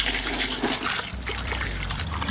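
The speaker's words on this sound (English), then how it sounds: "we're gonna put it back in this white tub, run some water over it" Water runs over rinsed aquarium gravel in a white plastic tub, a brief steady splashing trickle heard up close.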